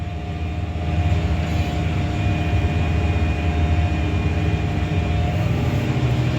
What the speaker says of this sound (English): They got the tractor rolling.